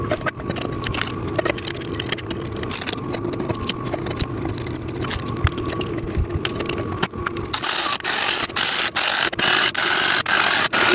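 Bolts and nuts being screwed in with a ratcheting tool while assembling a VEVOR sissy squat machine, a steady run of close metallic ratchet clicks that turn sharper and louder in the last few seconds.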